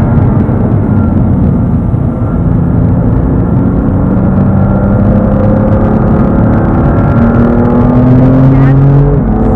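A car accelerating on the Dreux race circuit in France, its engine droning loud and continuous at close range as the pitch climbs steadily while the driver gets back on the throttle after braking and turning.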